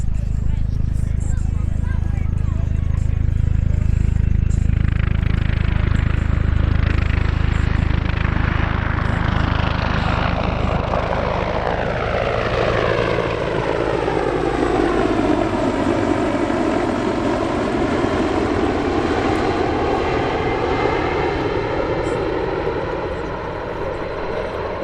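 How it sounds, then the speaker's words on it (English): A US Navy MH-53E Sea Dragon heavy helicopter performs at an airshow, its loud rotor thump and turbine roar swelling as it passes close, with a sweeping pitch change and crowd-distance rumble throughout. "Airshow London hosted a performance by an MH-53E Sea Dragon."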